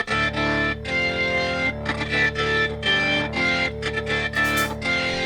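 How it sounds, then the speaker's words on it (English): An organ plays in the studio recording of a rock song, a sustained, distorted and chorus-treated tone blended into a loud, dense full-band mix with no break. "You hear the organ now, so that's new."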